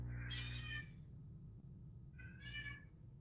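A cat meows twice at a closed door, wanting to come inside; two clear, fairly close calls about two seconds apart over a low room rumble.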